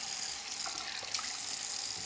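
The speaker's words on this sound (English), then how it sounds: "going to fill the sink with warm water and very mild soap" Warm water runs from a tap into a sink being filled, a steady broadband hiss of rushing water with no pauses, close and fairly loud throughout.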